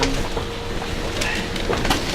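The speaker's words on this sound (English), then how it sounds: "Hopping on the tram." Steady rumble of a tram in motion with faint clicking and rattling, a continuous mechanical drone throughout.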